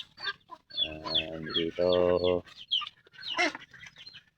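Chickens cluck and call in a backyard flock on a Filipino farm. Several loud, harmonic squawks come in bursts up close, with a short spoken word mixed in.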